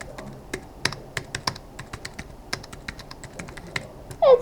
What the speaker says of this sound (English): I will be using a Bluetooth keyboard.